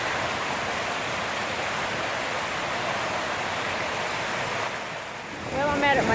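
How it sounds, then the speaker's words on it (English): Gushing water from a swollen stream near a waterfall pours in a steady, loud, broadband rush that holds constant, dipping slightly near the end as a brief bird-like chirp appears. "I'm not going to sit and try to get across this gushing water"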